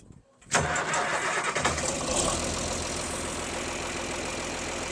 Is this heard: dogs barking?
no